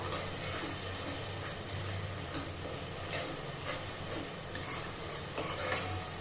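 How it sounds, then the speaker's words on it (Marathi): A dal mixture being sautéed and stirred in a pan, a soft continuous sizzle with light scraping strokes of the spoon throughout, close and quiet, with no voices. "आता हे चांगलं परतवून घ्यायचंय आपल्याला"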